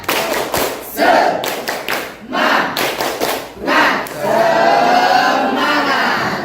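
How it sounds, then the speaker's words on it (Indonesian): Students in an Indonesian physics classroom do a group spirit clap, with patterned bursts of clapping and thuds over loud chanting voices that build into sustained crowd shouting. "Oke, mulai tepuk semangat"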